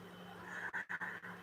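Dogs pant quietly nearby in quick, rhythmic breaths with a few short gaps, low in level and without talking.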